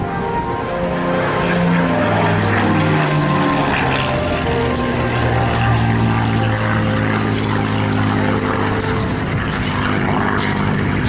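A Supermarine Spitfire Mk9 fighter flies over an airshow at Eastbourne, its piston engine and propeller making a loud steady drone that shifts slightly in pitch as it passes, with no voices.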